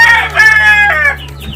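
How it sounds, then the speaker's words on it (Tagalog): Chickens cluck and a rooster crows loudly and close by, with a low steady hum running underneath. "Grabe, ang daming manok ni kuya"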